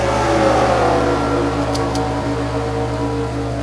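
IndyCar race cars in a video game accelerating off the start, a dense whining engine drone from several cars at once, steady and loud with no talk over it.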